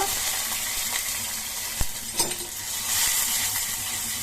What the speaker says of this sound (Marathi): आता मोहरी टाकायची, कढीपत्ता, गॅसची फ्लेम स्लो ठेवायची आहे आणि हिंग।